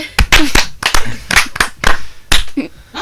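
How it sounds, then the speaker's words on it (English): A class claps hands in a loose, uneven rhythm, several sharp bursts of clapping close by, with no voices. "Applaudissez."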